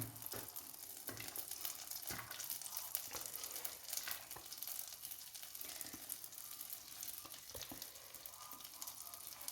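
Ginger, garlic, green chilli and curry leaves frying in melted unsalted butter for butter chicken, a constant close sizzle with faint stirring taps.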